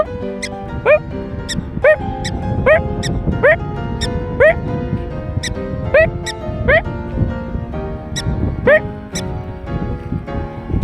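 A string of sharp, high-pitched yipping barks, about a dozen at a fairly steady pace, over a rumbling outdoor background.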